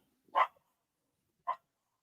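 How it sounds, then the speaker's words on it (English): Two separate barks from a dog, the second shorter, clear and fairly close with silence between them. "my dog is barking"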